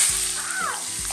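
Onions frying in oil for birista, the crisp fried onions for chicken biryani, with a steady broadband sizzle throughout and a few low thumps from stirring.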